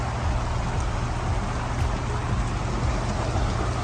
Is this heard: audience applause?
no